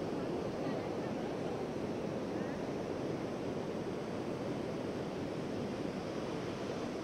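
Hukou Waterfall in winter gives a steady, dense roar that stays unbroken and loud throughout, like heavy surf, with no voices heard.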